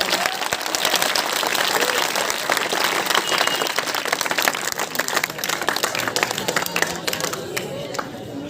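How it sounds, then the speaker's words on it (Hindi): Students applaud at a school Gandhi Jayanti quiz competition, a dense, steady crowd clapping that fills the room from start to finish and thins slightly near the end. "एक बार तो मेरे नाम से भी ताली दे दो"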